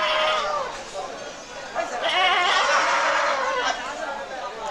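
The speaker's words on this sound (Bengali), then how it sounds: "দেখেন খালি ছাগল আর ছাগল" Goats bleat repeatedly and overlap at a busy village livestock market for local Bangladeshi goats, loud and close, with crowd chatter running underneath.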